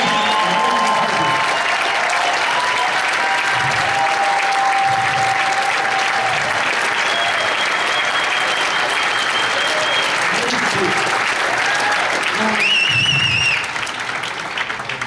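Sustained crowd applause for event leaders, loud and continuous for about fifteen seconds, with cheers and whistles rising above the clapping and a few voices calling out within the crowd.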